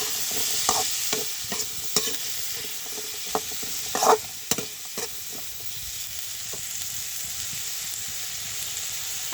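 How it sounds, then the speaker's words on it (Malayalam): Cauliflower masala being stirred in a pan: a soft, steady sizzle with a series of sharp spoon scrapes and clicks against the pan, close and clear, with no talking. "ഇതൊന്ന് നമുക്ക് നന്നായിട്ട് ഇളക്കി യോജിപ്പിച്ച് കൊടുക്കാം."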